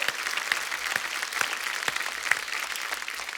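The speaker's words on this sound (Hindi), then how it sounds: "एक बार जोरदार तालियां अवरोध की पूरी टीम के लिए" Studio audience on a Hindi TV comedy show bursts into steady, dense applause, a continuous patter of many hands clapping at moderate loudness with no voices over it.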